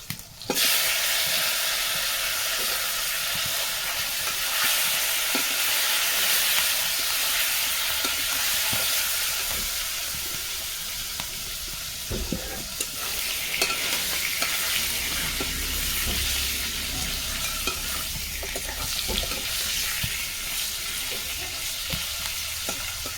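Carrots fry in a pan with a continuous, fairly loud sizzle, broken by occasional scraping and knocking as they are stirred over roughly twenty seconds.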